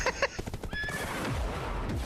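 An electric horse in a video game gives a sharp, fairly close whinny, with clip-clop hoofbeats and game noise around it and no talking.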